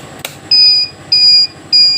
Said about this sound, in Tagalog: pindutin tong si page para mawala ang buzzer